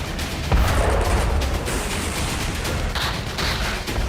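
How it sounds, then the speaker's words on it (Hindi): Continuous explosions inside a building at a Russian army weapons depot during the Russia-Ukraine war, a dense roar of overlapping blasts and crackling detonations that goes on without pause. "एक इमारत में जबरदस्त धमाका हुआ और लगातार धमाके होने लगे।"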